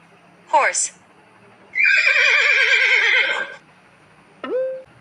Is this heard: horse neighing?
yes